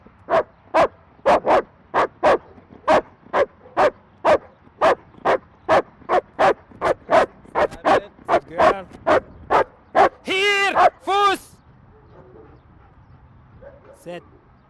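A fierce police dog barks during an attack demonstration: a long, loud run of sharp, evenly spaced barks, then a couple of drawn-out whining yelps before it falls quiet.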